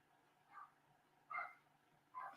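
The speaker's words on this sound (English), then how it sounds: "I'm so sorry about the barking" A dog barks three times in short separate bursts, somewhat distant and fairly quiet, with pauses between each bark.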